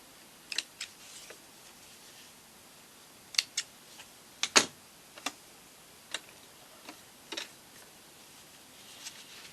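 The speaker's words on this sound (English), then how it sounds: "I'm just going to snip my threads off" Scissors snip loose threads on a sewn circle skirt, giving a scattered series of about a dozen sharp, quiet clicks with short pauses between them in a hushed room.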